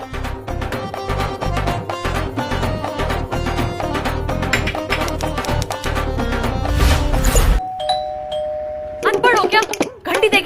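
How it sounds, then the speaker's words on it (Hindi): A home doorbell rings again and again in quick succession for several seconds, pauses, then chimes once more. Voices speak around the ringing. "घंटी देखी नहीं बजाए जा रहे हो?"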